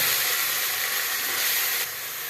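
Chopped onions fry in hot oil in a pan, making a dense, continuous close sizzle that stays loud throughout and eases slightly near the end, with no talking.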